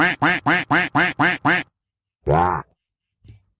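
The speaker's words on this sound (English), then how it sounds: "What's the duck doing?" A duck quacks seven times in a fast, even burst, then gives one longer, drawn-out quack after a pause, loud and close with no talking over it.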